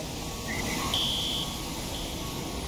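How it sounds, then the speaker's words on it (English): A fire alarm in a video game sounds as a steady electronic buzzing tone with short higher beeps, moderately loud over a constant background hum. "Oh, there is a fire alarm."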